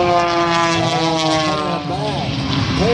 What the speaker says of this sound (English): Mike Wiskus, you can hear him winding up. 375 horsepower.